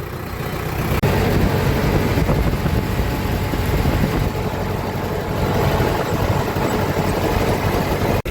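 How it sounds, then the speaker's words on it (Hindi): A tractor's diesel engine runs steadily after starting, a loud continuous rumble with no talk over it. "इसी के साथ ट्रैक्टर को कर दिया है स्टार्ट"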